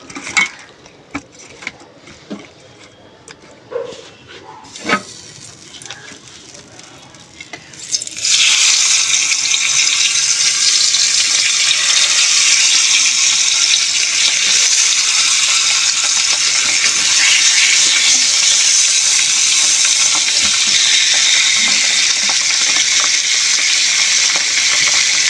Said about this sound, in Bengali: চলো পাবদা মাছগুলো এখন ভেজে নিই